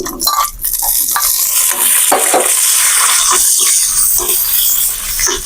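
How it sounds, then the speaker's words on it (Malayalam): Cashews and raisins frying in ghee for semiya payasam, a loud close sizzle with bursts of spitting and crackling and scraping stirs against the pan, no voices. "എന്നിട്ട് ഇതിലേക്ക് നമുക്ക് ആദ്യം അണ്ടിപ്പരിപ്പ് ഇട്ട് കൊടുക്കുന്നുണ്ട് മുന്തിരിയും ചേർക്കുന്നുണ്ട്"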